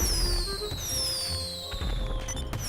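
Fireworks going off in the video game GTA V Online, with descending whistling streaks and crackling bursts layered over a steady game background, fairly loud throughout.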